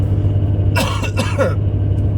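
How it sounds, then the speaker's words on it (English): Two or three harsh, close coughs in quick succession in the middle, set against a low steady hum and otherwise quiet. "Talking like scratches my throat, makes me cough"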